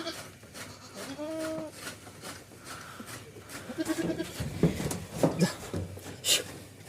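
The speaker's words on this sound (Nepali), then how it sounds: "उन्नत जातका बाख्रा" Goats of an improved breed on a farm give a few bleats, including a wavering call near the start, amid farmyard background noise and scattered louder knocks and rustles later on.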